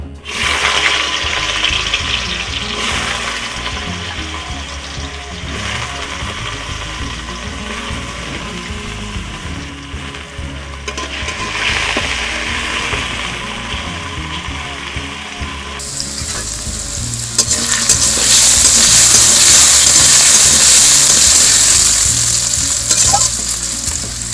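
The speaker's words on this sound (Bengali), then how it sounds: "এই আলুগুলো এখন আমি কড়াতে উঠিয়ে দিচ্ছি" Salted potato pieces fry in hot oil in a kadai, a loud continuous close sizzle with rattling scrapes, swelling into a brighter, fiercer hiss in the last part, no talk.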